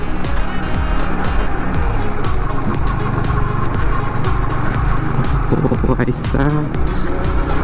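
A Yamaha MT 15 motorcycle engine revs loudly and continuously while riding off-road up a hill, its pitch rising and falling with throttle changes, close to the microphone, with a brief spoken word over it.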